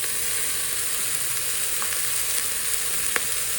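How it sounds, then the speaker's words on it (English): Vegetables fry in a hot tadka for Andhra-style sambar while turmeric goes in, giving a steady, close hiss of sizzling oil with a couple of faint stirring clinks. "I'm giving it about a minute for the vegetables to cook in the tadka"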